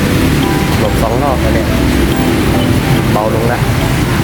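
Loud, dense hiss of steady rainfall outside the Mueang Udon Thani district office, with a voice speaking briefly underneath.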